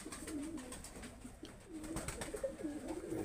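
A pair of Pakistani pigeons coo nearby in soft repeated rolling calls, with a few low rustles in between and no talking.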